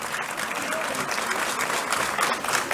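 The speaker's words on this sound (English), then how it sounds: "Round of applause for Ratnil." A conference audience gives a round of applause for a technical organiser, a dense, steady wash of clapping lasting throughout at moderate, even loudness with faint crowd murmur beneath.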